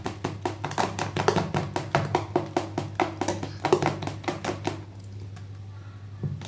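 A hand beats urad dal vada batter in a bowl with quick, regular wet slaps, a close rapid patter that runs steadily and then stops near the end, leaving a faint low hum.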